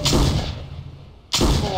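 Two heavy gunshots from the video game Trespasser, each a loud booming blast; the first rings out and decays slowly before the second hits about a second later.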